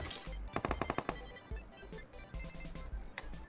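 Rapid bursts of gunfire in PUBG Mobile, several tight volleys of sharp cracks in quick rhythm, close and fairly loud, separated by brief pauses.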